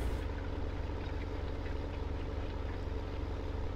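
A tractor engine in Farming Simulator 17 straining at maximum RPM while pulling hard, a loud, steady, droning roar that holds unchanged throughout.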